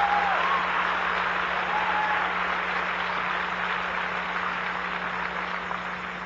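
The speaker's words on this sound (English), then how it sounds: "I don't know why you're clapping." Church audience applauding a preacher's sermon, a steady wash of many hands clapping at moderate distance that slowly fades toward the end, with a low steady hum underneath.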